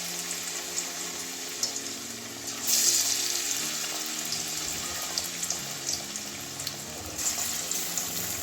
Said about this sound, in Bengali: বাকিগুলো সব ওইভাবেই ভেজে নেব